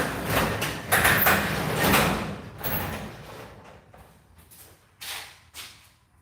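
A crooked garage door on worn, bad rollers is pulled down along its track, giving a loud scraping, rattling rumble broken by sharp knocks and thuds, then easing into quieter clunks with a few last bumps.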